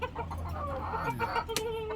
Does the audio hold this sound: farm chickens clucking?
yes